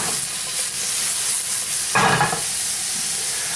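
Mushrooms seasoned with kosher salt and black pepper fry over high heat in a pan, giving a continuous loud sizzle and hiss with a short burst of stirring noise partway through.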